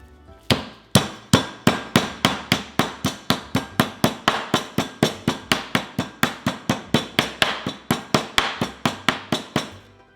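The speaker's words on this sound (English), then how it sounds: "just repeat the slicing and pounding process until you have the amount of carpaccio that you want" Thin slices of raw beef for carpaccio are pounded on a butcher's block, a long run of sharp, evenly spaced thwacks, close and loud, about three per second with no speech.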